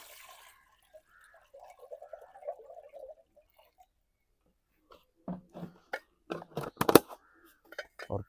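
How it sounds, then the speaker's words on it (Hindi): Water poured into a cooking pot set on a wood-fire stove during potato snack preparation: quiet trickling early on, then a series of louder splashes and drips, close by with no talking. "और शामिल करते हैं देगची में पानी।"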